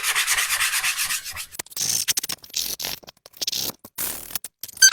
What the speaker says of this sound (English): Next, you may take a piece of sandpaper and use this to sand the edges.